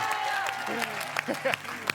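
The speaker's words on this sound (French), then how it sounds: "Merci Romain, bravo, applaudissements et merci à Martin." Studio audience applause on the French game show A prendre ou à laisser, a steady crowd clatter running under a voice talking over it, with a few sharper claps standing out near the end.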